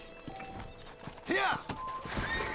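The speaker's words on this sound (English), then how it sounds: "Let's hitch the horse." In the video game Red Dead Redemption, a horse's hooves clip-clop under ambient game sound, and a short, sharp neigh rises in the middle. A voice briefly speaks.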